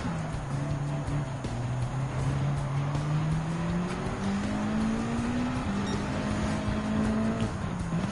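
A 2008 Nissan GT-R race car in Gran Turismo 7 roars steadily at close range on a circuit, its engine pitch climbing through the gears with brief dips at each shift and faint tire noise underneath.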